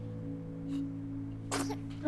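One person sneezes in an indoor scene, a short sharp burst over a steady low electrical hum, preceded by a faint breathy sound.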